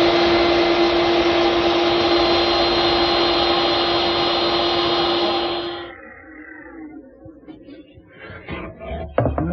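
A router table cuts a decorative profile into wood for a French side table, a loud, steady high-pitched whine that runs for about six seconds, then spins down and gives way to quieter knocks and handling noises.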